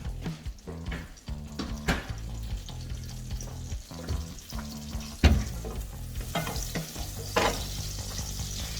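Butter and olive oil sizzle steadily in a hot pan for garlic mushroom pasta, with scattered clinks and scrapes of a utensil over a continuous close frying hiss and no talk.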